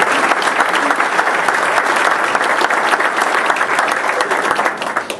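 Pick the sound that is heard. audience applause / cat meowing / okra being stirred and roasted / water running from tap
audience applause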